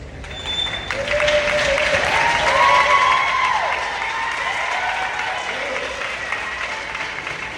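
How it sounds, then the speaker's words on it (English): At a middle school honor roll assembly, an audience gives a sustained round of applause that swells and then eases, with a few faint voices underneath. "applause"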